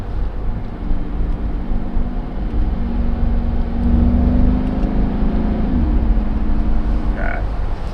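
A Mercedes G63 AMG Designo engine pulls in manual mode, its loud, close drone climbing in pitch before dropping at a gear shift, then settling into a steady rumble.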